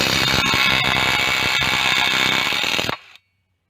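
Ozito PXC 18V brushless impact wrench working at 115 foot-pounds, a loud close continuous hammering rattle for about three seconds before cutting off abruptly into silence.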